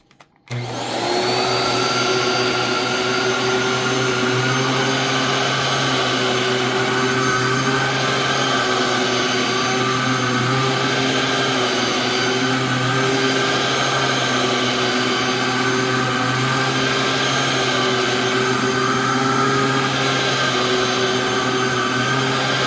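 Dyson DC07 vacuum cleaner switching on and running steadily indoors, a loud close continuous motor whine with a constant hum that stays unbroken for over twenty seconds.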